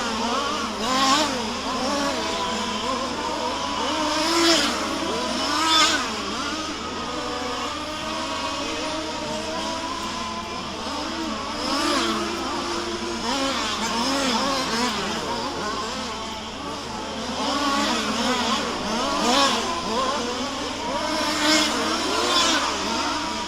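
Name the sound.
race cars racing on track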